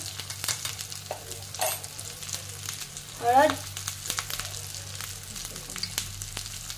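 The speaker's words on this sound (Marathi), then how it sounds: "आपलं वाटण भाजत आलंय" Masala paste for a spicy katvada curry roasts in a pan with a soft, continuous sizzle, punctuated by scrapes and clinks of stirring and a brief louder rasp midway, close and with no talk.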